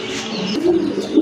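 Pigeons at a pigeon farm coo close by in a short, loud, throaty burble that continues through the whole moment.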